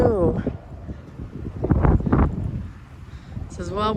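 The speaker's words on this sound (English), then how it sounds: "it's super windy, so I apologize for all the wind" Strong wind buffets the microphone on an open hilltop outside Pamplona where wind turbines stand, a continuous low roar that swells and gusts, with a person speaking over it at the start and end.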